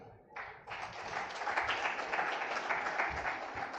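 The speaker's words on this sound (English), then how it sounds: "Can we give her a big clap?" Conference attendees at a fintech event give a round of clapping, a broad, even patter of many hands that starts abruptly after a short quiet moment and carries on steadily at moderate distance.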